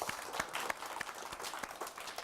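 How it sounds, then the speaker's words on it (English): A magic show audience applauds briefly, with a short burst of scattered hand claps at moderate loudness. "Give Cooper a big round of applause."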